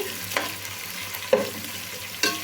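Onions and green chillies sizzle in oil for biryani while a spoon stirs them, giving three distinct scraping clanks against the pan over a low steady fry, close and without speech.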